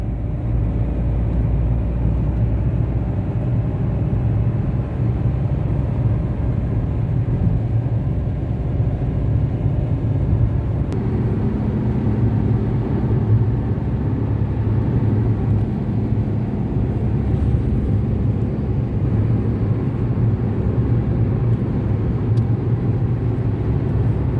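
A car cruises along the Agra Lucknow expressway in India, with a steady, droning rumble of engine and tyre noise that stays constant for the whole stretch and no talk over it.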